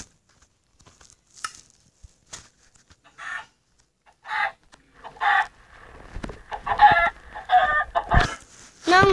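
Chickens cluck and squawk in scattered bursts, sparse at first and then busier and louder toward the end, with short sharp calls close by and no talking.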